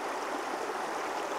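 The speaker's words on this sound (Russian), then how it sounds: "Это же родник." Cold mountain spring water flows in a steady, dense rush with a bright, splashy hiss, close and continuous, with no voices over it.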